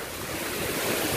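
Ocean waves surging and washing onto a shore where a crab crawls, a steady broad roar of surf close by with wind noise rushing over the microphone, no voices.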